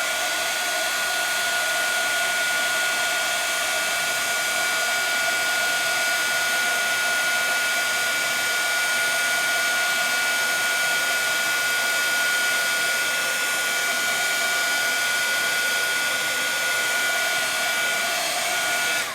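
A heat tool runs continuously, melting embossing glaze over dye-based ink in a craft session; a steady, loud blowing whir holds alone and unchanged throughout.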